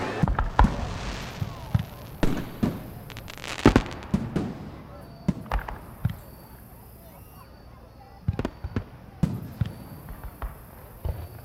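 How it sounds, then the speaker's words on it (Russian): Fireworks going off outdoors, heard at a distance as scattered sharp bangs and crackling pops, some in quick clusters and others spaced apart, with softer background noise between bursts. "Фейерверк только начался."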